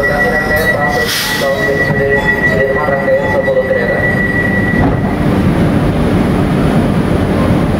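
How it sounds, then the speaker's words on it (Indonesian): Chinese-made KRL commuter electric train pulling out of Manggarai station, a steady loud rumble of wheels and traction hum with a faint squeal, continuous and close throughout. "Jadi kita abadikan kereta komuter China ini berangkat dari stasiun Manggarai."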